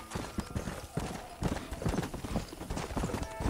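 Horse hooves clip-clopping as a rider arrives in the Western video game Red Dead Revolver, a steady rhythm of close, fairly loud hoofbeats with an occasional snort over a busy background.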